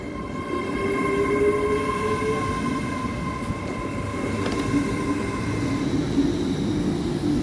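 A British Rail Class 800 train pulls out of Newport, South Wales, bound for London Paddington, a loud steady engine drone with humming tones carried continuously throughout, with no talk.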